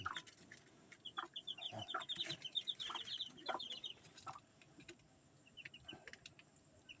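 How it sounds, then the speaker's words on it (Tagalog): A mother hen in a gamefowl breeding yard clucks softly and repeatedly, with bright, high peeping chirps scattered through and a fainter stretch toward the end. "ito yung inahin ko"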